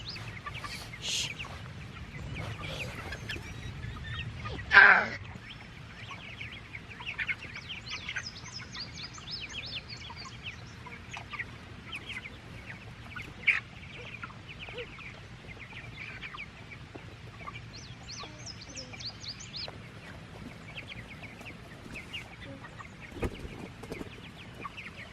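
Chickens cluck and call sporadically in a coop, soft, close clucks and higher chirps scattered over a quiet background, with one louder squawk early on and no talking.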